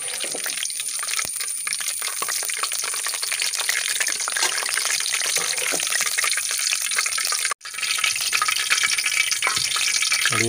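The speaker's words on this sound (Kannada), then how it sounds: "ಇವಾಗ ನಾನು ಮತ್ತೆ ಎರಡನೇ ರೌಂಡ್ ಚಿಪ್ಸ್ ಬಿಟ್ಟಿದ್ದೇನೆ" Jackfruit seed chips frying in hot oil, a continuous close sizzling crackle with occasional stirring scrapes and one brief interruption partway through.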